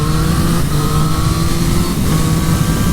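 A 2023 Triumph Street Triple 765 RS motorcycle's engine runs loud and close at steady revs, with a continuous tonal drone and a slight dip in the middle.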